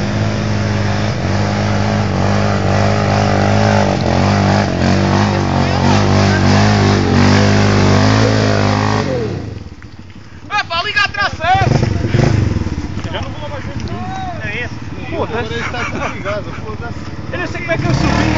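Motorcycles on a group trail ride rev loudly and steadily at close range, then drop off and rev again in rising and falling bursts while people talk and shout nearby.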